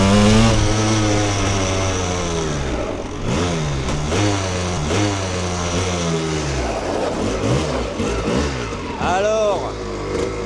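The engine of a Yamaha 250 Tri-Z three-wheeler revs up and down in repeated rising and falling sweeps, loud and close, while people talk over it.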